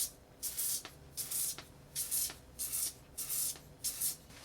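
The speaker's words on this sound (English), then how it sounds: "some nice spray all over the cocktail." Strong absinthe of about 70-80% ABV misted from a sprayer over a Sazerac cocktail, heard as about six short, breathy hissing puffs in a steady rhythm, close and fairly loud with brief pauses between.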